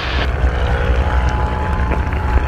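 Steady engine drone of a LongEZ light airplane in flight during an aerobatic display, loud and continuous from inside or close to the aircraft, with a faint tonal hum above the rumble.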